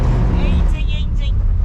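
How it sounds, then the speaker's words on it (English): A classic Corvette spins a tire in loose gravel, its loud engine roar and churning tire noise filling the moment, with people talking over it. "I can spin a tire right here."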